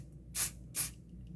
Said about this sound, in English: So you're going to take a little Scotchgard and you're just going to